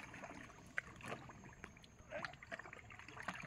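On the Garal river, a fishing boat is hauled up a muddy bank at low tide. Faint, scattered knocks, scrapes and small water splashes come from a distance, with no talking.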